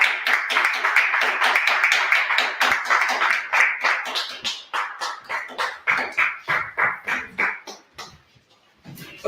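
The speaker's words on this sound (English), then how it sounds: "Everyone stand to your feet and give a round of applause for our founder" Audience members stand and clap for their founder, Minister Rahim Aton, at a community gathering, the applause dense and steady before thinning into scattered claps and fading out.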